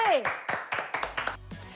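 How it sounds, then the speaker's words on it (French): A short burst of clapping from a small group, quick rhythmic claps close by, with voices talking over it. "On l'applaudit très fort."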